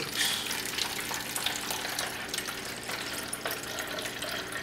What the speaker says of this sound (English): we're going to pour it into our container